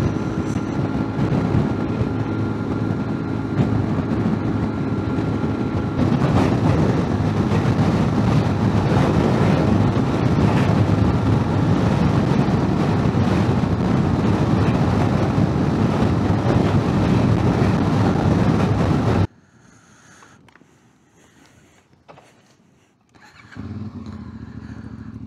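A CFmoto 450MT motorcycle rides a highway near Ventspils in strong wind, making a loud, sustained engine drone mixed with heavy wind roar. The sound cuts abruptly to near quiet, then a lower rumble returns.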